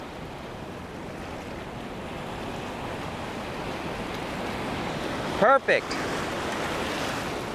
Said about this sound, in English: I've got some surf coming in.